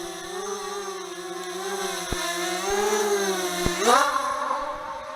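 ZMR250 mini quad drone with spinning propellers, a close, steady buzzing whine that wavers in pitch and swells briefly as the throttle rises, with a couple of faint clicks.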